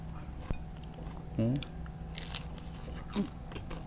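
Crispy-skinned roast suckling pig, freshly roasted and bitten into, giving a couple of short crunchy bites and chewing with brief voiced sounds of enjoyment between them.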